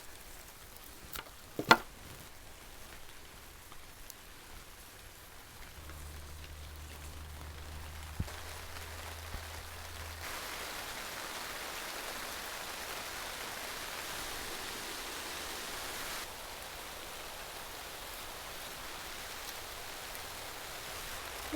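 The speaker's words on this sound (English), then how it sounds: "There's really nothing like being in a greenhouse when it's raining. It makes it extra beautiful, the sound." Rain falls steadily on a greenhouse, a soft, even patter of drops that swells slightly partway through, faint and continuous with no voices.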